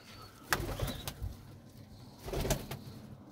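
Pigeons in a loft coo in a few soft bursts, with quiet gaps between calls; no one speaks over them.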